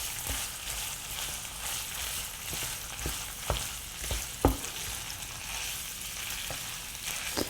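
Ground pork soboro stir-fried in a pan over high heat, a continuous close sizzle with occasional sharp clicks and scrapes of the utensil against the pan, no voices.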